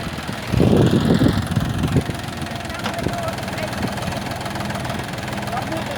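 A John Deere 5045D tractor engine runs steadily close by. Its loudest rumble comes early, then it settles into an even idle-like drone while people talk over it.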